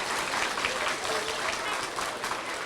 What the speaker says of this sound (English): Give a big round of applause for all our postal workers.